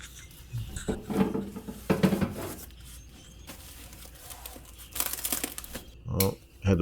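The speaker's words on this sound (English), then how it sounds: "had to pull out the knife for this. It was taped up pretty well." Crinkling, scraping and tearing of taped-up packaging being cut open with a knife in a workshop, coming in irregular close bursts with pauses between.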